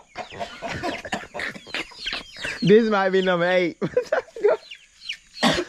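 Chickens clucking on a farm, with a drawn-out, harmonic fowl call rising mid-clip while someone talks over and around it.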